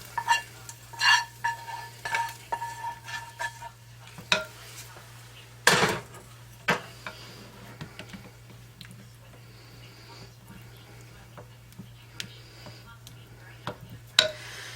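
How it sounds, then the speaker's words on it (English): Chopped onions and celery tipped into a slow cooker for Thanksgiving dressing, with a burst of scraping and rustling, a sharp clatter, then sparse knocks over a low steady hum. "So now I'm going to add the onions and celery in."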